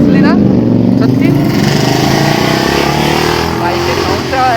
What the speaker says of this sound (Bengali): বাইকের সাউন্ডটা এত কানে লাগছে।